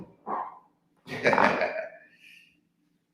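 A dog makes two short throaty vocalizations in a gym, a brief grunt followed by a longer, rougher growl-like bark, close and fairly loud with silence between.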